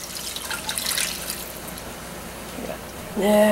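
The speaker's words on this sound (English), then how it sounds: "into this, we're going to add a little bit of water" Water is poured into a pan of cooking minute steaks, a soft splashing and trickling that fades out, followed by a voice starting to speak at the end.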